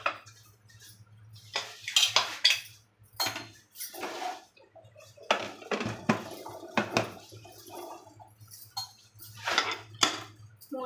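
Metal pots, lids and utensils clatter and clank in a kitchen as a pressure cooker is closed over vegetable biryani, with irregular close knocks and scrapes over a low steady hum.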